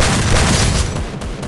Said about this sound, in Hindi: मेरे वाले शॉटगन का रेट ऑफ फायर अच्छा है